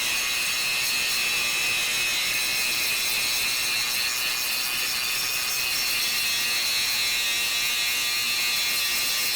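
A RIDGID Octane 4-1/2 inch brushless angle grinder (R86042B) grinds rust off metal with a continuous, loud, high-pitched whine and a gritty scraping edge, steady from start to finish.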